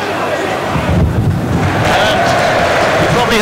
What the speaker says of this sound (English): there's another clap of thunder